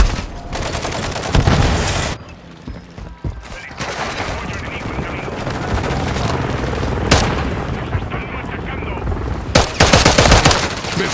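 Video game gunfire in Modern Warfare 3, loud rapid bursts of automatic fire with heavy booms and sharp cracks, dense and continuous with brief lulls, a voice shouting briefly under the shooting.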